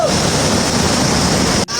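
Steady, loud rush of a waterfall at Sundarijal, Nepal fills the clip, a broad continuous roar with a brief dip near the end.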